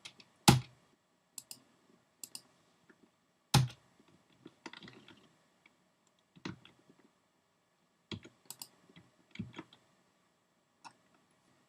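Sharp, isolated clicks from a computer mouse while working in Photoshop, coming singly and in small clusters with irregular pauses between them, close and dry in an otherwise quiet room.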